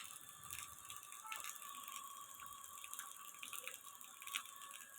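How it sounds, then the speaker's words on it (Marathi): A steady, faint patter of monsoon rain comes down outdoors at a rural home, with a soft drip and rattle texture throughout and a few louder taps. "आणि पाऊस चालू आहे बघा लेकरांनो."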